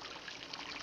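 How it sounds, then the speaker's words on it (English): Water flows steadily, making a continuous bright hiss with no pauses. No other sounds stand out. "I hear the water."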